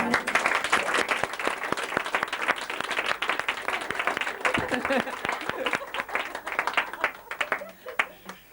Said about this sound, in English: I think we should all give her an applause